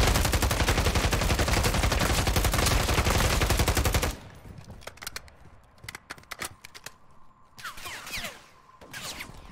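Rapid, loud automatic gunfire in a Warzone 3 zombie mode, a dense unbroken burst for about four seconds, then scattered shorter shots and bursts with quieter gaps between them.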